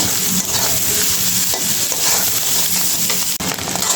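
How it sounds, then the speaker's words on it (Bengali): Onion, egg and meat frying in a pan for pasta, a steady loud sizzle with scraping stir strokes and one brief clank near the end, no talking. "পেঁয়াজ ডিম আর মাংসটাও ভাজা হয়ে গেছে"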